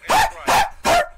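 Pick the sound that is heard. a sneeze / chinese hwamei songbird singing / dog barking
dog barking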